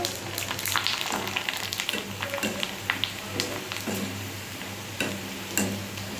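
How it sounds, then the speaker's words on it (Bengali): Fafda snacks deep-frying in oil, a steady dense sizzle and crackle throughout, with occasional light taps and ticks over the bubbling. "তো এই তো এদিকে সবার জন্য ফাফড়া ভেজে নিচ্ছি"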